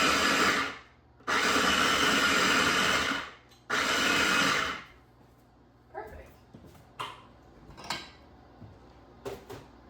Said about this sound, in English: I'm using right here, my electric twist and chop